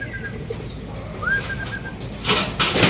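Racing pigeons from an NHPC club training toss in Luisiana, Laguna, returning to the home loft. A clear whistled, rising-then-level note is heard, followed by a brief burst of fluttering wingbeats near the end.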